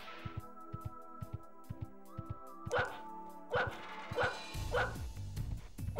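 In the PS1 video game The Grinch, a dog barks several times over rhythmic game music, the barks loud and spaced as the music continues underneath.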